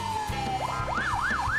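A toy ambulance siren starts with a steady tone and then switches to a rising and falling wail. It sounds close and clear, with no voices.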